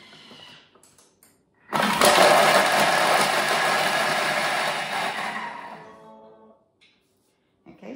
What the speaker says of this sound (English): now we're going to chop that for 3 seconds on speed 7